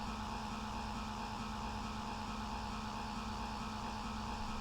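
Small van with a 1-liter three-cylinder four-stroke engine in The Long Drive, droning steadily with a constant low hum, loud and close throughout.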